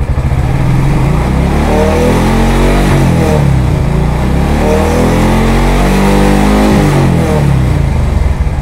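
A Yamaha NMAX 155 scooter engine idles close up, a loud, steady mechanical drone with a constant beat and no speech over it.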